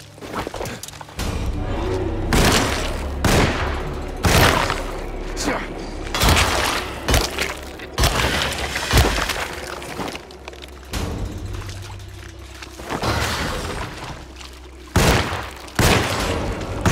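Gunshots from the survival horror game Alone in the Dark, set in a chapel, ring out as sharp, booming blasts spaced every second or so, with a voice talking between them.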